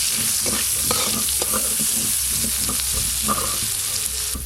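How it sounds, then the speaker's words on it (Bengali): Bitter gourd pieces fry with turmeric and salt in fish oil, giving a steady loud sizzle throughout, broken by the soft scrape and tap of stirring in the pan. "উচ্ছেগুলো প্রথমে ভালো করে ভেজে নেব"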